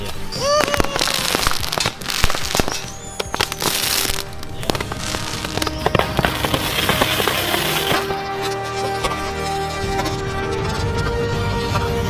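A hundred roman candles glued to a drill fire together, a loud continuous barrage of popping and crackling bursts with whistling shots, close and sustained throughout with no letup.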